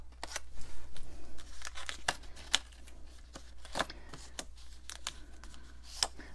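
A paper punch stamps heart shapes from a Stampin' Up card kit, giving a run of crisp, close clicks and snaps at an uneven pace with paper rustling between them and no talking.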